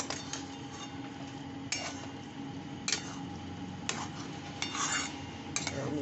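A spoon stirs ghee into an egg and pumpkin dish in a pan, with soft scraping and a few sharp metallic clinks against the pan at irregular intervals, close and fairly quiet with no talk.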